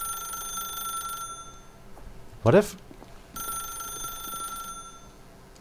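Telephone ringing in the video game The Stanley Parable, two sustained electronic rings separated by a pause, with a brief spoken voice between them.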